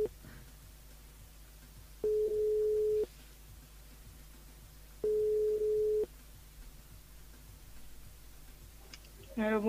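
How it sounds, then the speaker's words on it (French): Telephone line tone while a radio show calls a listener on air: two long, steady beeps about a second each, three seconds apart, loud and clean over faint background noise. "Autant de gagner du temps, on appelle Lucine du côté de Sacrotide ce soir"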